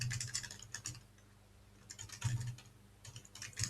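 Random text being typed on a computer keyboard during web coding work: bursts of quick key clicks with short pauses, close and moderately loud, no voices.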